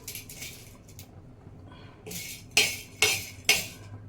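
Cardamom seeds tipped onto a tawa or wok, heard as a few sharp, bright rattling clatters of small hard seeds and utensil contact, close and fairly loud against a quiet kitchen.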